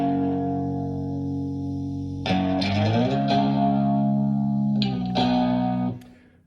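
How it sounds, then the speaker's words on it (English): A Gretsch electric guitar plays a rhythm part with chorus, echo and distortion, starting with a held chord, then a run of quickly changing strummed chords, then a fade, with no talking. "this is a guitar part that I played on my Gretsch guitar"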